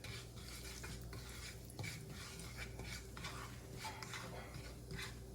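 Spoon stirring half a teaspoon of cumin seeds into two teaspoons of hot oil in a pan, with soft scraping strokes over a faint sizzle, quiet and close.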